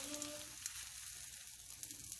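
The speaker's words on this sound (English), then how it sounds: "You can hear the sizzle" Keto roti laid in a hot cast iron skillet sizzles with a soft, crackling hiss that holds steady with small pops throughout.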